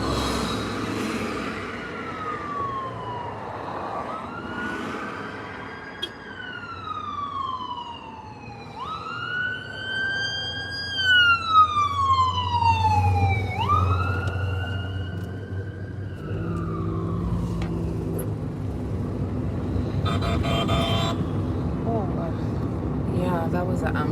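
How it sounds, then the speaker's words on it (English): A wailing ambulance siren sweeps up and down as it passes close by, loud over traffic rumble, then fades into the distance as a voice talks. "that was an ambulance"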